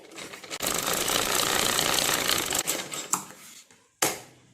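A sewing machine stitches a blouse patti in a dense continuous run, then stops with a couple of short sharp clunks near the end.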